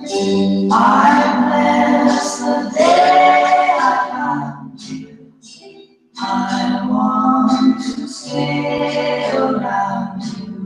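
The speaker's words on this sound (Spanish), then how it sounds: "dos hermanos que armonizaban maravillosamente, y en la gran mayoría de sus canciones cantan como uno" Two voices sing together in close harmony, sustained melodic lines with a short pause midway before the duet resumes.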